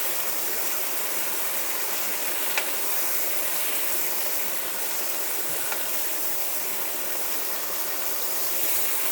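Chicken mince frying in a pan: a steady, even sizzle and hiss with no break, close and moderately loud, with only a couple of faint clicks.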